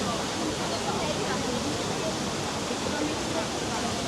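Water rushing steadily in the Trevi Fountain in Rome, a dense, even roar of splashing flow with faint crowd babble mixed in.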